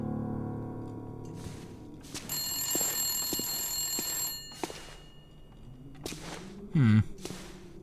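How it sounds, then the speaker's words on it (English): A telephone rings in the survival video game The Long Dark, with several separate ring bursts spaced across a quiet ambient scene and sharp clicks in between. "He seems to be quite alone, so getting a phone call must be rare here."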